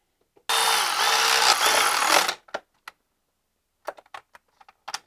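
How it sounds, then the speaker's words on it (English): A power tool tightens the alternator mounting bolts on a BMW E46 during an alternator rebuild: one close, loud whirring burst lasting about two seconds, followed by a few sharp clicks and taps. "Let's tighten these bolts up."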